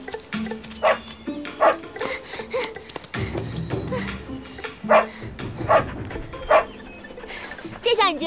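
A small dog barks repeatedly in a historical drama scene, short sharp yaps spaced through the clip over background music and voices.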